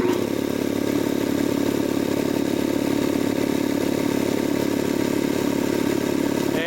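A Jenny air compressor drones steadily under load as it builds pressure, a constant loud mechanical hum with a faint clattering edge, near and unbroken.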